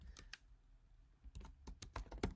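Computer keyboard typing in quick bursts of clicks, with a short pause in the middle before the keystrokes resume, close and fairly quiet.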